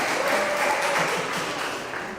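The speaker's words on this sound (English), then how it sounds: "applause for Dead Trees." A crowd at a comic convention panel applauds, a dense steady wash of clapping heard throughout, with no one speaking.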